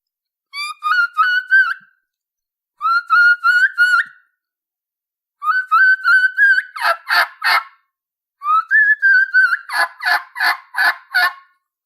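A turkey call mimics a young turkey's kee-kee, blown as four loud, close bursts of short high whistling notes broken into little parts, the later bursts adding sharp clucking yelps, with pauses between each series.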